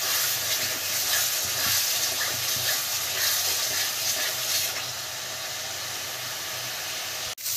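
A spice paste of cumin and coriander powder fries in oil in a pan for egg curry, giving off a steady, fairly loud sizzle and hiss with some stirring. The sound drops lower toward the end.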